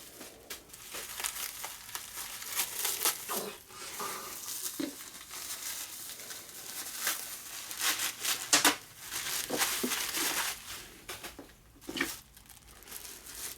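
Packaging torn open by hand, a run of close crinkling and ripping bursts of plastic and paper that come in irregular spurts over a quiet background, with no talk.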